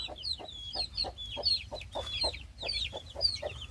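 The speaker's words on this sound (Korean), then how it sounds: "골드 브라마 병아리들이 새 엄마를 만났습니다" Gold Brahma chicks with their mother hen: rapid high peeping from the chicks runs over a steady series of low, rhythmic clucks from the hen, close and moderately loud, with no talking.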